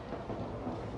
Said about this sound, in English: It sounds like it is thunder